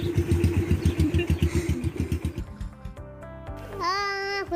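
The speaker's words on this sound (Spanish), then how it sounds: "Fui a pasear en la moto" A motorcycle engine runs close by with a fast rhythmic chugging pulse for a couple of seconds, then fades back as a voice speaks briefly at the end.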